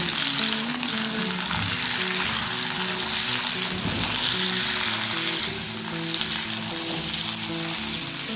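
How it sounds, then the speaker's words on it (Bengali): Flat beans and potatoes sizzle and crackle as they fry together in oil in a pan. The hissing is loud and continuous throughout, with occasional stirring, and no talking. "আলু আর সিমটাকে একসাথে আরও একটু ভেজে নেব।"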